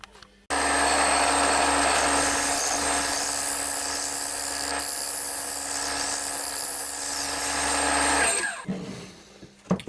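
A wood lathe runs at speed for off-centre turning on a glue chuck, giving a sustained loud whirring hum with rough scraping from the cutting tool, then winds down and stops near the end.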